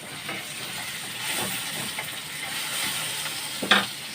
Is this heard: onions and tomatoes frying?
yes